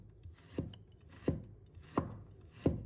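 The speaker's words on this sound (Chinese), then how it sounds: "把它切成薄片" A knife slices through peeled fresh ginger on a cutting board, making four evenly spaced, close, crisp chops about two-thirds of a second apart, with no voices.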